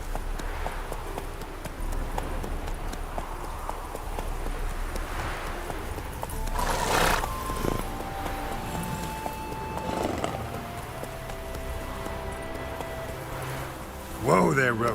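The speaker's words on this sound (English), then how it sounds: "Whoa there, Roach." Horse hooves clip-clopping at a run in the Witcher 3 video game, with a short neigh and a louder burst near the end, over continuous game ambience and music while a voice speaks.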